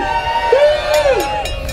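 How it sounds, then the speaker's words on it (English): A street protest crowd cheering for police, a loud burst of voices with rising whoops and a sustained shout over a dense crowd murmur. "They're in a tough place. Let's give them a cheer."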